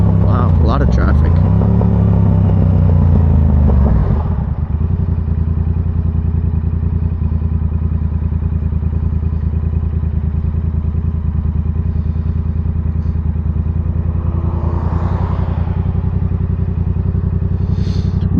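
Yamaha R7 motorcycle exhaust while riding in traffic: a loud rising rev at the start, then a steady, close engine drone with rumbling exhaust throughout.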